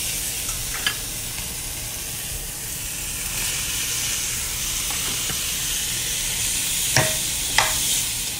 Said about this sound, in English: So I'm boiling the noodles.